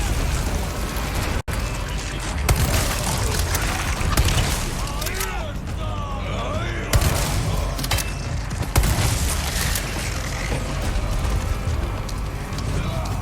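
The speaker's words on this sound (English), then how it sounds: "blow him up with that grenade" A grenade goes off in the Resident Evil 4 Remake video game, sending several heavy booming bursts through a busy game soundtrack while a person talks over it.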